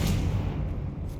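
A Confringo blasting spell explodes in the Hogwarts Legacy video game, one short dense rumbling boom filling the moment loud and close, with no talking.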